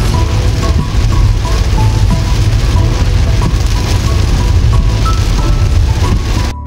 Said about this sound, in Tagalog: napakalakas ng ulan doon sa labas